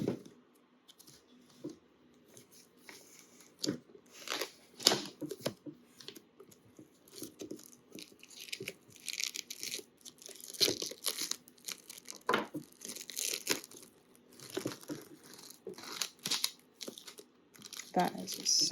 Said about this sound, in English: Pulling that plastic off